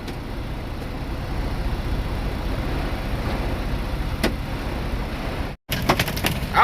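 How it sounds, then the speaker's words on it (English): Hail pelting the body of a truck with an empty trailer during a storm, a steady dense rattle of small impacts under broadband wind noise, with a few sharper cracks and a brief dropout near the end. "pieces of hail hitting the truck too."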